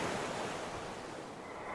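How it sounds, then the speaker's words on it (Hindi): Strong sea waves roll against the shore in a steady, broad roar of surf, loud and continuous with no voices. "वो समंदर की लहरों की ओर चली जा रही थी और आज लहरें भी काफी तेज थी।"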